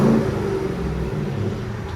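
Throaty exhaust note from a 1989 Jeep Grand Wagoneer with a 5.7L GM V8 and resonator, a deep engine rumble holding steady and then swelling slightly in a brief rev, close and loud.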